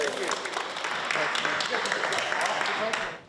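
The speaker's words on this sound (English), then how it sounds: "Give yourselves a big round of applause." Employees at a company gathering give themselves a round of applause. The dense, steady clapping lasts about three seconds, with voices mixed in, then fades out.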